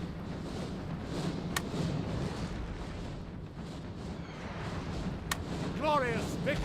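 Cannon artillery fire in the video game Napoleon Total War during a siege battle, a dense rumbling wash of distant booming shots and battlefield din, with a couple of sharper cracks and faint voices near the end.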